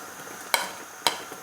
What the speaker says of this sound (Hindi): लहसुन अदरक के पेस्ट को भून लेंगे